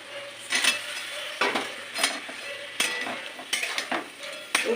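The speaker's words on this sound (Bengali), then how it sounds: "এবার আমি যে সসটা তৈরি করেছি সেই সসটা আমি দিয়ে দেবো নেড়ে চেড়ে পকোড়াগুলো আমি দিয়ে দেবো" Cauliflower pakoras are stirred into sauce in a frying pan, with repeated scraping strokes of a spoon against the pan about every second over a soft sizzle, close and fairly loud.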